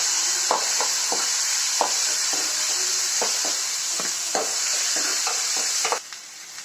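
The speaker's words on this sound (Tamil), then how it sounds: "இது மீதி தக்காளி இதில் போட்டு வதக்கிக்கிறேன்." Tomatoes and onions sauté in a hot pan, giving a steady, close sizzle broken by repeated scraping stirs of the spoon, until the frying sound drops away abruptly near the end.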